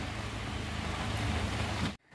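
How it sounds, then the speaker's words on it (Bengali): Steady rain hisses evenly, with a low rumble underneath, before cutting off abruptly. "বৃষ্টি হয়েই চলেছে।"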